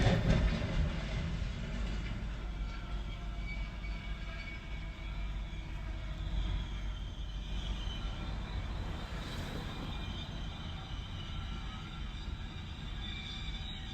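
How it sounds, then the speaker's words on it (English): An incoming train approaching a truck stuck on the tracks, heard as a steady loud rolling rumble with faint rhythmic rail clatter and a high whine continuing throughout. "he heard the ominous sound of the incoming train"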